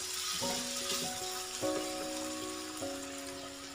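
Chicken and carrots fry on a low flame in a pan, giving a soft, steady sizzle with faint crackles throughout and no talking.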